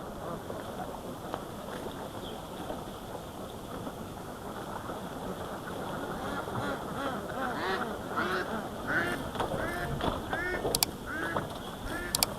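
Ducks on an integrated fish and duck farm quack and honk in a dense, continuous chorus from many birds, close and moderately loud, with a voice speaking faintly underneath.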